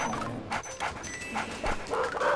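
A dog in the Luigi's Mansion video game barks and yips several times against a dense, eerie game soundtrack, the short barks spaced irregularly over steady background music.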